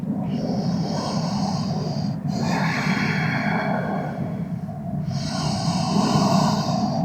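Slow, deep breaths held in a yoga pose, a long airy inhale and exhale repeating close to the microphone over a steady background hiss, with no talking.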